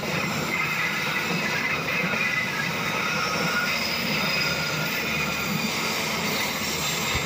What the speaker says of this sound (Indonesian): Bunyi rel berderit karena di sini memang tikungan lumayan tajam.